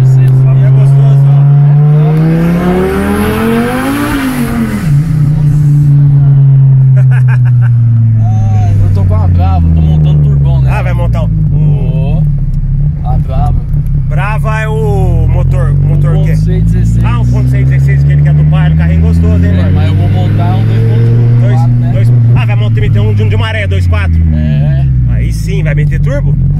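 Fiat Marea Turbo engine drones loudly inside the car during a ride, its pitch rising and falling repeatedly as it revs and shifts, with occupants talking over it.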